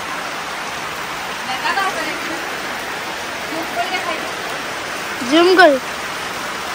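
Steady heavy rain falls in a continuous hiss throughout, with brief voices breaking through above it now and then, including a louder spoken burst near the end.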